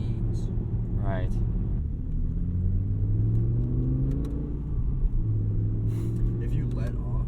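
A 2008 BMW E60 M5 accelerating at full power, its engine note rising in a steady climbing drone from inside the cabin, loud and continuous, with people talking over it.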